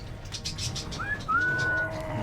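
Pigeons coo in a video game arena, soft whistled calls rising and gliding over a steady low background hum, with no talking during the calls.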